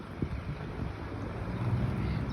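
Evening wind blows outdoors, buffeting the microphone with a steady low rumble and occasional gusts throughout.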